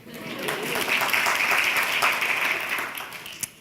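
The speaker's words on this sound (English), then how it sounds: "Round of applause." An audience at a global health talk gives a round of applause, clapping swelling quickly to a sustained moderate roar and then thinning out, with a single sharper clap near the end.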